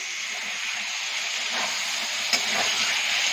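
Fish, prawns among them, sizzling in hot oil in a pan, a steady close hiss throughout with a few brief crackles, no talking.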